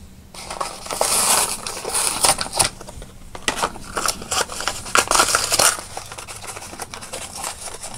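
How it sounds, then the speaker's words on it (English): Hot Wheels Car Culture blister packs being ripped open by hand, loud close crunching and crackling of plastic and cardboard in bursts. "I love that, being able to rip them open."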